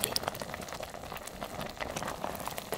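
A pot of soup, a summer Korean guk, simmers over medium-low heat with a continuous bubbling and gurgling and scattered small pops, close by and moderately loud, with no talking.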